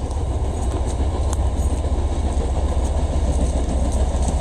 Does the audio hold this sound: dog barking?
no